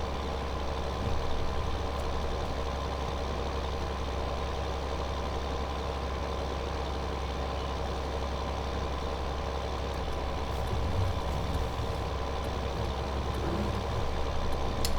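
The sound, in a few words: Claas Axion tractor engine in video game Farming Simulator 2015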